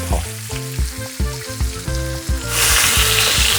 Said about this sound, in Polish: przekładamy ją na drugą stronę i tak samo ją smażymy